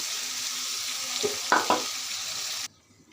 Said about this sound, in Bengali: মশলাটি কষানো হয়ে গিয়েছে উপরে তেল ভেসে উঠেছে এখন আমি আমার কাটা টমেটোগুলো দিয়ে দিচ্ছি